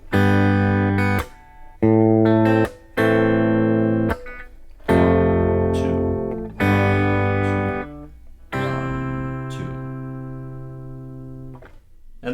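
Acoustic guitar strums the closing chorus measures of a song, loud and close, in sustained chord blocks separated by short gaps, with the final chord ringing out for several seconds.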